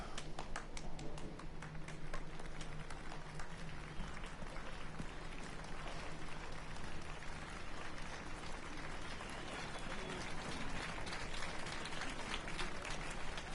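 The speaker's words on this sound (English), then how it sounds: "Slow clap." Steady clapping and crowd noise in The Witcher 3 fill the scene, dense and continuous, with a low hum underneath and some voices mixed in.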